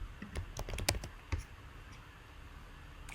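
Quick bursts of key clicks from typing on a computer keyboard, a handful of sharp taps in the first second and a half, then only a quiet room hum remains.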